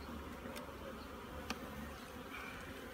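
Honey bees buzz steadily around an open hive at a bee camp, a close, continuous drone with a couple of brief clicks and no voices.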